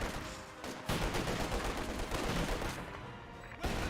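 Dense gunfire rolls through a Company of Heroes 2 battle, with rapid overlapping rifle and machine-gun bursts and heavier booming shots. The firing is loud and continuous, with brief gaps.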